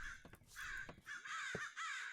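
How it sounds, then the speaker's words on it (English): Several crows caw loudly in a quick run of harsh calls, near and clear, in a game world of ore-crushing machinery, with little else audible. "Just those crows are loud."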